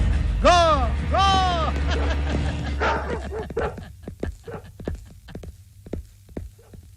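Large dogs bark and yip in a loud, close burst, mixed with a howling, wavering vocal sound and a low hum, then break into scattered sharp clatters and knocks.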